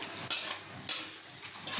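Tomato pieces fry in a pan while a spoon stirs them for muri ghonto, with a few short scraping strokes over a faint sizzle, close and fairly quiet.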